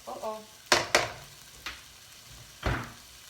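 A pan of vegetable hash with potatoes and soft vegetables is frying and being stirred, giving a low steady sizzle that is broken by several sharp scrapes and clanks from the stirring utensil, close and fairly quiet.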